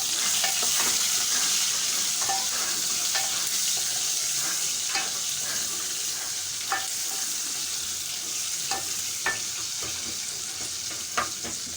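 Chopped onions frying and sizzling in a pan over browned cumin seeds, a steady near hiss with occasional stirring clinks and scrapes, no talking.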